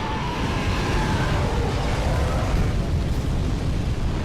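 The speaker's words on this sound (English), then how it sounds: "I need to get him to breathe fire down here." A dragon breathes fire in the video game Dark Souls 3, a loud, sustained roaring blast of flame that rumbles steadily for several seconds with no pauses.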